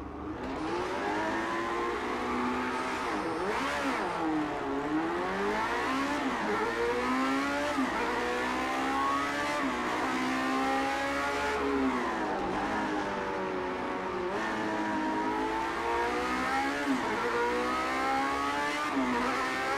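A Lotus 78 vintage Formula 1 car in Project CARS 2 on the 1965 Hockenheimring layout screams continuously at high revs, its engine pitch climbing and dropping with repeated gear shifts throughout the lap, with no talking.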